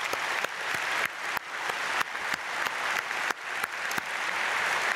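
A church congregation at an early-morning prayer service claps steadily for its high school students, a dense, even wash of many hands that fills the space for several seconds without pause.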